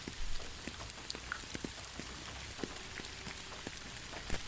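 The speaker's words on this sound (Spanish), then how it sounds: "el sonido de la lluvia nos relaja, nos da paz, calma nuestra ansiedad" Steady rain falling on a hard surface, a dense continuous hiss dotted with sharp close drip and patter impacts, with no voices.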